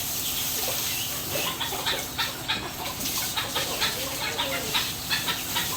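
Chickens cluck in a busy, continuous chorus close by, with short repeated calls over a steady background hum.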